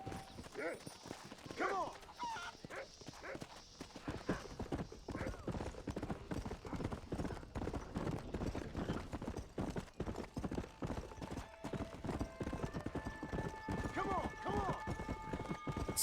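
Hooves of a horse in the Red Dead Redemption video game clip-clop in a steady trotting rhythm throughout, mixed with game background sound and music.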